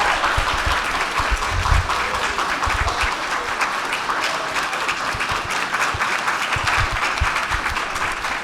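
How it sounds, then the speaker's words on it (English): An audience at a book launch party applauds for the author in a loud, sustained round of dense clapping that holds steady throughout. "Can you please just give a round of applause for Ruth Watson,"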